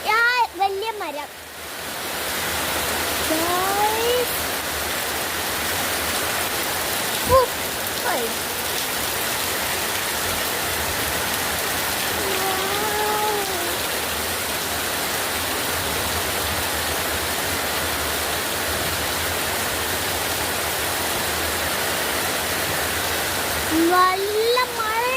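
Heavy rain falls steadily near a large tree, forming a loud, dense, continuous hiss of drops on surfaces with no pauses, while someone speaks intermittently over it.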